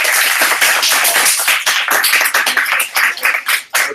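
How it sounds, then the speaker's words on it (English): Middle school class applauding their teacher, a dense burst of enthusiastic clapping from many hands in a classroom, loud and continuous before breaking into scattered final claps. "I would like to ask the members of the class to please applaud Mr."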